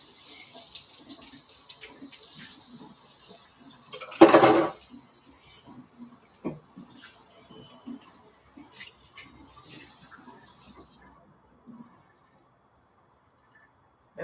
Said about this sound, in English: So I want to rinse these red beans. They've been soaking.